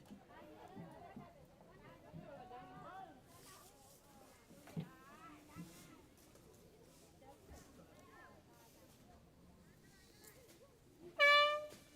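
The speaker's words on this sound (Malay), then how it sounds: "Horn telah pun dibunyikan." A loud air horn blares near the end of a school sports match in Malaysia, cutting through a crowd's chatter and a commentator's voice heard throughout.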